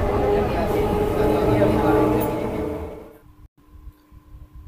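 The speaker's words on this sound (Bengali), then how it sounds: "ছেড়ে দিল আমাদের ট্রেন হাজিগড়" A Bardhaman chord local train leaves Hajigarh station with a loud rolling rumble of wheels and carriages that fades away over about three seconds, leaving quiet background with faint clicks.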